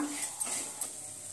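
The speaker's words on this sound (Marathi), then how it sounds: "आणि सर्व मिक्स करून घेऊया।" A spoon stirs and mixes barnyard millet (varai) upma in a pan, producing steady scraping with a few light clinks of metal, fairly quiet and close.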